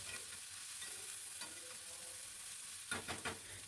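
Eggplant pieces fry with onions in oil in a pan, giving a soft, faint steady sizzle with a couple of brief scraping stirs near the end.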